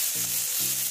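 Onions browning in oil in a pan for an omelette give a steady, close sizzle, with two short scraping strokes of stirring over it.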